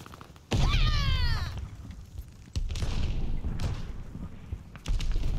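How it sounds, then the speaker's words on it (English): A grenade thrown and exploding in the Call of Duty: Vanguard shooter, heard as a loud, close boom with a downward whistling sweep, followed by further heavy thuds and battle rumble. "Throwing grenade!"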